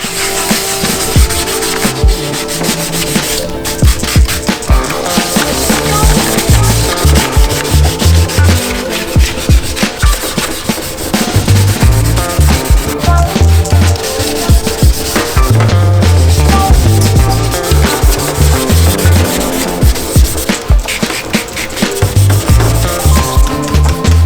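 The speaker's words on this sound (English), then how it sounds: "we're gonna do some wet sanding. Gonna wet it all down, get the sandpaper nice and soaked, and get this all touched up" Wet sanding on a Harley-Davidson FXR fairing with soaked sandpaper, heard as loud, close, rhythmic rubbing strokes in quick back-and-forth bursts that continue almost without pause, with brief gaps between passes.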